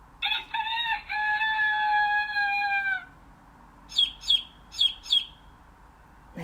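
A rooster gives one long crow from a children's animal sound puzzle book, followed after a short gap by four quick, high chick cheeps, all clear and close with no talking.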